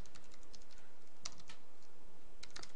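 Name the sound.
typing code on a computer keyboard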